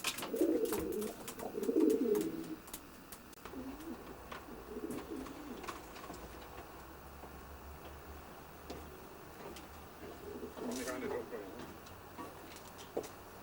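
Racing pigeons coo softly in a loft, low murmuring calls clustered near the start and again later, with faint ticking and background movement throughout and speech-like murmurs mixed in.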